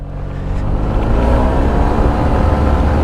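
A Yamaha TMAX 560 scooter rides through Paris at night, its engine droning loud and close with a steady rumble that builds slightly, accompanied by rushing wind and no voices.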